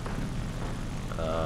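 A Ki-84 Hei fighter plane's engine drones steadily during takeoff in War Thunder, a loud, continuous propeller roar.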